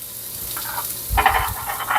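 A pork steak sears in a hot pan as part of a pork rib-eye dish with beer sauce, giving a steady hiss that swells louder after the first second with crackling bursts of sizzle.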